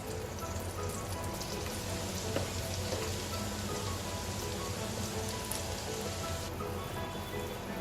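Spaced-out South Indian vadas deep-fry in hot oil with a dense, continuous crackling sizzle, loud and even throughout.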